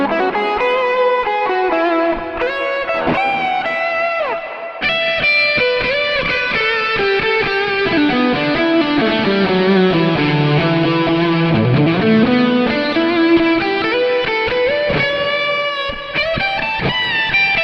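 An electric guitar plays an overdriven solo through a neural amp modeler with delay and plate reverb, with loud sustained notes, bends and fast runs trailing echoes over a steady rhythm.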